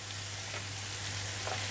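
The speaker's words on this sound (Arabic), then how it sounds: "وهنقلب الكلام ده كله مع بعض ياخد تشويحه" Onion rings, green and colored peppers, carrots and cubed potatoes are stir-fried in a pan, giving a steady close sizzle with faint scraping stirs over a low constant hum.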